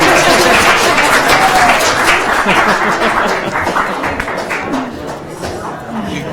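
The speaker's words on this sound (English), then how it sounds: "The crowd shows up and cheers after 2 seconds." Applause and cheering from a crowd fill a city council meeting in Hudson, loud and dense at first, then gradually thinning while clapping and voices continue.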